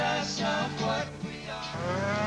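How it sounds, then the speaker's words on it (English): Cattle moo loudly and continuously during a Montana cattle drive, several long overlapping bellows filling the clip with no voices heard. "They celebrated today with a cattle drive instead of a cake in Big Sky Country."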